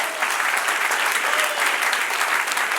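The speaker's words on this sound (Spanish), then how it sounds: "Dale otro aplauso al Señor" Church congregation applauding during a Spanish-language sermon, a loud, thick wash of many hands clapping at once, sustained and even for nearly three seconds with no voice over it.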